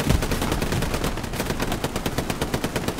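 Sustained machine gun fire in the World War II shooter Hell Let Loose, a dense, rapid rattling stream of bursts that stays loud and continuous throughout, close by and without talk.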